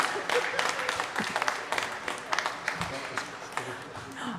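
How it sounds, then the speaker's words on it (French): Audience members at a public information meeting on mobility in the Angus sector clap in scattered, uneven bursts at moderate level, with voices talking underneath. "vous pouvez applaudir si vous voulez"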